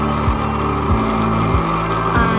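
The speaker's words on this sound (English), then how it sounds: "excuse the bike noise now" Motorcycle engine drones steadily while riding, with brief dips at regular intervals like gear changes or throttle shifts, loud and continuous with wind noise.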